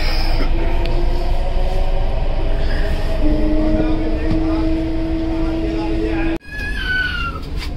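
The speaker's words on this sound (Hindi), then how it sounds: "ये लो चलो मेट्रो आ गई।" A Lucknow metro train arriving at the station, a steady loud rumble with long tonal whine and screech lines under station ambience, then a sudden brief cut and a rising squeal as it comes in.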